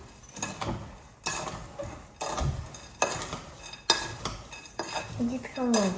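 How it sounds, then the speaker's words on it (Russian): Walnuts with sugar, half a teaspoon of cinnamon and vanilla sugar being stirred in a bowl, giving repeated scraping and clinking strokes in an uneven rhythm, close and fairly loud, with no talking. "Перемешиваем."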